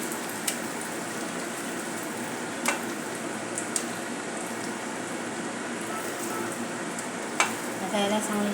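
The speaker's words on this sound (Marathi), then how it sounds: "त्यामुळे आपण त्याला हलक्याशा तेलामध्ये शेकून काढणार आहोत." A healthy snack pan-roasting in half a spoon of oil, a soft, steady sizzle with occasional light scrapes and taps of a utensil against the pan.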